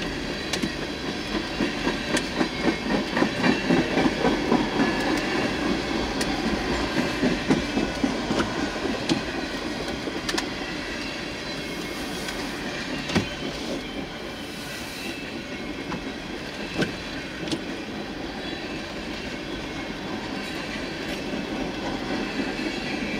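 A long freight train of gondola cars rolls past nearby in a steady rumbling roar, with wheels clicking over rail joints and faint squeals throughout.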